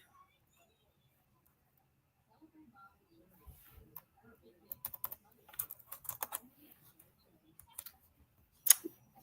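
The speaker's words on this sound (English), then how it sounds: "See if I type this." Someone types on a computer keyboard in a quiet room, producing sparse, soft keystroke clicks that come in uneven bursts and end with one sharper tap.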